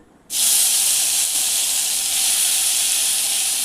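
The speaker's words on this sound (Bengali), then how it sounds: "ফোড়নটা একটু লাল হয়ে গেলে তখন আমি আনারসটা কড়াইতে তুলে দেবো" Grated pineapple drops into a hot tempering of spices and chillies in a wok, bursting into a sudden loud hiss that holds as a steady, strong sizzle.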